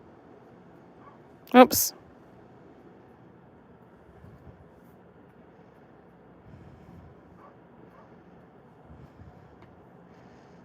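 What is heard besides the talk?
dog barking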